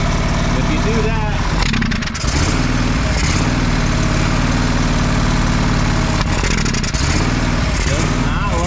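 The engine of a John Deere 425 lawn tractor runs steadily on choke, loud and close with an uneven idling drone, while someone talks over it.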